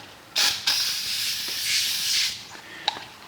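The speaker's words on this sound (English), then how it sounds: "I'm going to spray some more on there." A spray bottle of cleaner hisses onto a Victorian fireplace in one short burst, then a longer sustained spray, with a small click near the end, close and fairly loud.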